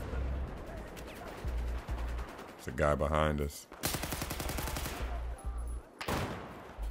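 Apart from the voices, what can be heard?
gunshots in a video game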